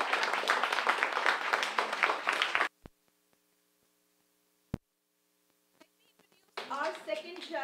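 An audience at a persuasive speech competition applauds a judge. The clapping is dense and loud for about two and a half seconds, then cuts off to near silence with a faint hum, and a voice begins speaking at the end.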